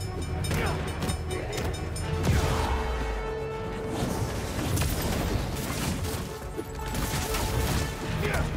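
Rumbling rush and clatter of a passing train in the video game Spider-Man 2, dense and continuous with sharp crashing bursts, no talking.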